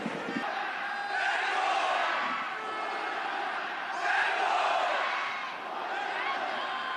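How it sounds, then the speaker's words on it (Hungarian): Zalaegerszeg and Győr football fans chant back and forth in a stadium, a large crowd roaring in alternating swells that rise and fall roughly every few seconds, loud and distant-sounding across the stands. "szópárbaj a közönség között. Az Zalaegerszegiek kiabálják, hogy hajrá, Győriek meg válaszolnak"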